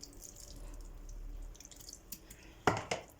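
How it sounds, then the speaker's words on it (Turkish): Cornelian cherries are squeezed and pressed by hand, with a little water, to separate the pulp from the pits for marmalade. Soft wet squishing and dripping build to a couple of louder, close squelches near the end. "elimizle bastıra bastıra çekirdekleri kalana kadar sıkıyoruz"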